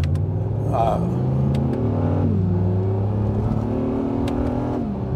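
Engine growl from a 2017 Acura NSX accelerating hard, a loud, continuous rumble whose pitch rises and falls as it revs through the run, with a voice speaking over it.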